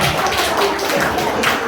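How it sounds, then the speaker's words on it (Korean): A church congregation claps together during a Sunday worship service, a steady, fairly loud patter of many hands filling the room for the whole stretch, with no voices on top. "박수."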